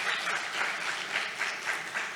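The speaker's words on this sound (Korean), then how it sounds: "여러분 박수로 환영해 주시면 좋겠습니다" A church congregation claps in welcome, a full, lively round of applause with slight rhythmic swells, steady and unbroken throughout the brief moment.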